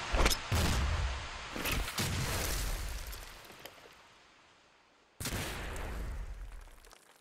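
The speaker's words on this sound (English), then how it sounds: "Grenade!" A grenade blast in Arctic Combat, team deathmatch, several loud booming explosions with long rumbling decay, one early burst, another soon after, then a final sharp blast after a brief silence.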